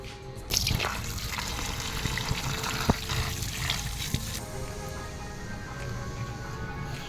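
A cut banana leaf is rinsed under running water, with steady splashing and trickling close by and a few sharper splashes and drips throughout.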